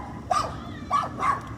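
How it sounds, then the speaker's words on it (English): Nova, a pet dog, lets out three sharp barks nearby indoors, spaced roughly half a second apart. "Sorry, my dog."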